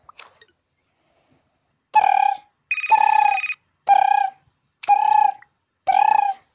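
A telephone rings in five loud electronic bursts, each about half a second long with short gaps between them, in a quiet room with no voices.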